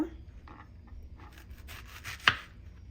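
A knife cuts ripe mango into small pieces on a board for a tangy-sweet mango and pineapple mix, giving quiet soft chopping strokes that build to one sharper, louder cut near the end.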